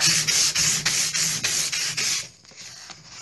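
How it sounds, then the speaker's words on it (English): Sandpaper rubs back and forth over chalky, water-based paint that behaves like acrylic, making loud, close, rhythmic scratchy strokes of about eight passes before easing off. "I just sand it there"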